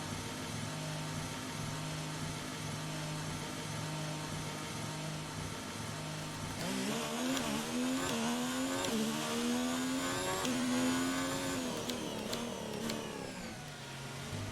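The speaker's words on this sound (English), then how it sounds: "I like the fact that the different F1 cars have different sounds" An F1 car engine in the video game F1 2019 idles low at first, then revs up and climbs through repeated rising pitch sweeps as it pulls away, loud and steady, with no talking.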